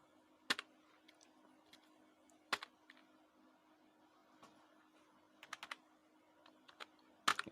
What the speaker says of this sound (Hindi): नेक्स्ट, जो कैप्चा है वो टाइप कर दीजिए।